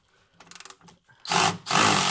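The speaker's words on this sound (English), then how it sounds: "Are you supposed to use this as a regular ratchet, or are you not supposed to do this?" Ratchet clicking while servicing a 2020 Polaris RZR Turbo S, a quick run of close mechanical ticks followed by two louder, longer grinding bursts, with no talk.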